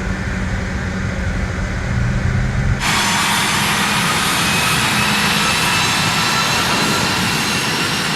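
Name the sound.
regional jet engines during taxi in video game Microsoft Flight Simulator 2020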